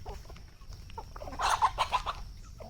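Free-range desi chickens feeding on grain cluck softly nearby, with a short burst of louder clucking in the middle against quiet outdoor background.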